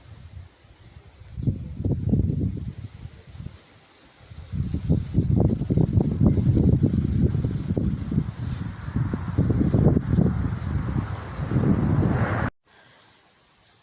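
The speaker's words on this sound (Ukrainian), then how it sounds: "а це знову вітер і шумить" Wind blows outdoors across a vegetable garden, building into loud rushing gusts that rise and fall for several seconds before cutting off.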